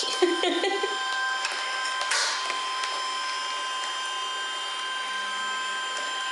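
A Kodak portable photo printer whirs and buzzes as it prints, a steady mechanical hum with a few clicks and rattles early on, heard close and moderately loud, with a voice briefly at the start.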